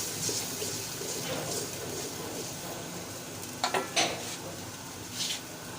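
Chopped tomatoes added to a pan of sizzling coarse garlic, green chilli and ginger paste, giving a soft steady frying hiss with a few light clinks of a utensil against the pan.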